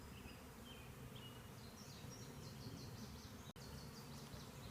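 A swarm of honeybees buzzing outdoors, a steady faint insect drone with scattered higher whines of individual bees passing close, continuous throughout with a brief dip near the end.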